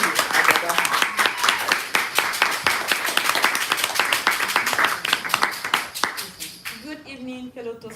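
Audience clapping for the grammarian at a Toastmasters meeting, a dense, steady round of applause from a modest group that fades out, followed by a speaker beginning to talk.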